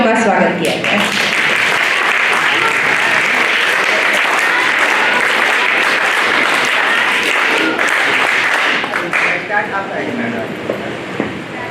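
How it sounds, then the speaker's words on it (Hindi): Sustained, dense audience clapping to welcome a group of girls at a school activity, loud and continuous before tapering into a few lingering claps near the end. "तो एक बार 3 ताली से इन बच्चियों का स्वागत किया जाए।"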